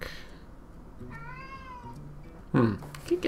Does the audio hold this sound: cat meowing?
yes